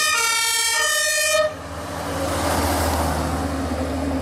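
German fire trucks responding in Berlin, a loud wailing two-tone siren up close that cuts off, leaving a heavy engine rumble and road noise as the vehicles pass.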